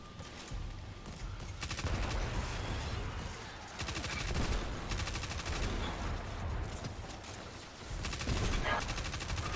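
Video game gunfire from Destiny 2 comes as repeated rapid automatic bursts, fairly loud and sustained across several long volleys with short gaps between them.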